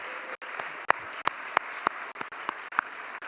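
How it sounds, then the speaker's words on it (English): An audience at a National Oratory Fellows event gives light, sparse applause, a handful of distinct, evenly spaced claps standing out over a soft background hiss. "Please join in giving them a round of applause"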